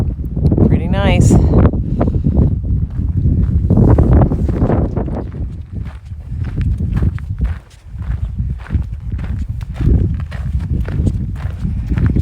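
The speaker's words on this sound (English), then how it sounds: "A little bit windy" Wind buffeting a microphone outdoors on a trek, rumbling in irregular gusts under footsteps and people talking, loud and close throughout.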